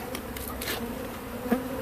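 Honeybees buzz close around comb strapped into a hive frame, a steady dense drone with individual bees passing near, and a brief louder buzz near the end.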